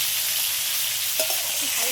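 Thin slices of papaya dropped into hot oil rendered from hilsa fish, giving a steady close sizzle with a few brief spits and crackles as the pieces hit the pan.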